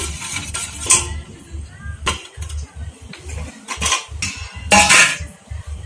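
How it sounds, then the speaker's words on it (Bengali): A steel plate is handled in a home kitchen, repeated close, loud metallic clanks and scrapes in an irregular rhythm, with no talking. "এইরকম একটা স্টিলের থালা নিয়েছি"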